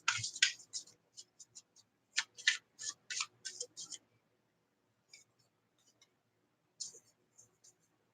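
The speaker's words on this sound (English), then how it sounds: "I shuffle this deck and these keep on coming out" A tarot deck is shuffled by hand in close, crisp bursts of papery riffling and flicking cards, then falls quiet except for a few sparse taps and a final brief flurry.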